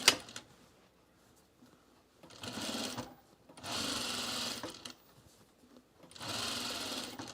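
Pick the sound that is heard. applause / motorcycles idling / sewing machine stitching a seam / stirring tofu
sewing machine stitching a seam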